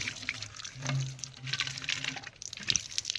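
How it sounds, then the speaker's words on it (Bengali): Water filling a plastic bottle in a jungle, a close gurgling, splashing trickle with shifting pitch and faint background noise throughout. "বোতলে জল ভরছে দেখতে পাচ্ছ"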